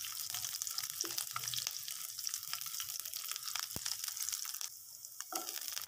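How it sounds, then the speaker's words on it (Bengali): Whole peeled garlic and cumin frying in hot oil give a steady, close, hissing sizzle throughout, with a few faint clicks of a utensil. "রসুন থেকে খুব ভালো একটা ফ্লেভার আসা পর্যন্ত ভেজে নিচ্ছি"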